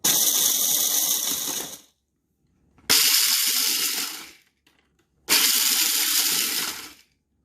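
A Walmart Mainstays 1.5-cup one-touch pulse mini food chopper runs in three loud, close pulses of about two seconds each, a high whirring motor whine with brief silences between bursts.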